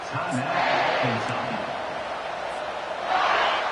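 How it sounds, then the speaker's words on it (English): A basketball arena crowd cheering during a college game: a loud, steady wash of roaring fans fills the space, swelling again toward the end, with faint voices mixed in. "They challenge this crowd to bring the energy, and I'd say they're doing that."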